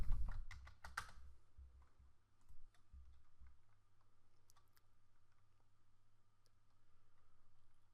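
Typing on a computer keyboard inside a Windows 10 virtual machine: a rapid burst of close, crisp key clicks at first, then sparse scattered taps over a low steady hum.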